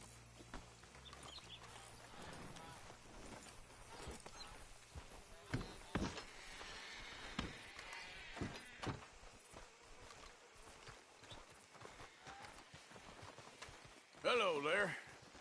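A horse's hooves clip-clop faintly in Red Dead Redemption 2 as the rider hitches up and halts, sparse soft knocks beneath background sound and a voice.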